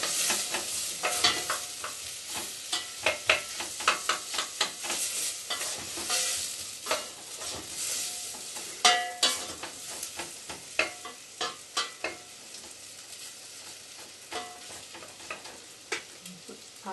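Onion and potatoes stirred in a pan for leek and potato soup, a steady run of close, light scraping and clinking strokes with a soft sizzle underneath, no talking.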